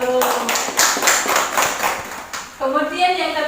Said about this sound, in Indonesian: Mari kita berikan tepuk tangan bagi kelompok 1